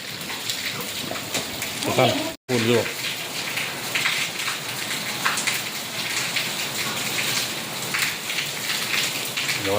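Rain falls steadily in a loud, continuous patter while a person speaks briefly over it near the start; there is a short dropout partway through.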